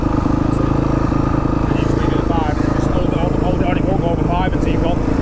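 Fantic XXF 250 motorcycle engine idling and rumbling steadily at launch control, loud and close with a constant buzzing drone, and a voice talking over it.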